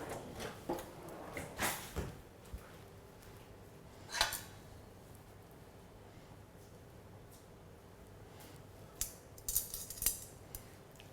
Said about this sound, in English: These are really long strands. I might trim them. You got any scissors? Kitchen scissors!